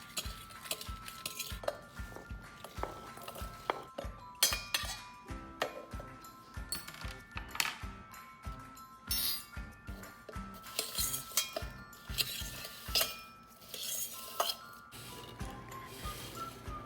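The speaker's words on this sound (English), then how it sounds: "we are going to add our apples and mix it with a fork" Metal fork scraping and clinking against a bowl while apples are mixed for a baked apple oven pancake, a steady run of close, busy clatter and scrapes with no talk.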